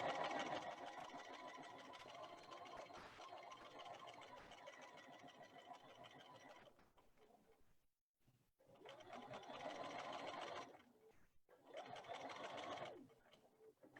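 A sewing machine stitches a quarter-inch seam along the edge of fabric placemats. It gives a close, steady motor whir that stops briefly twice before running on again.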